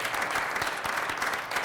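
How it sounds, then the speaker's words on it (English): Audience applause from a civic gathering in St. Louis, a steady wash of many hands clapping that stays dense and even throughout, with no talking over it. "give yourselves a round of applause"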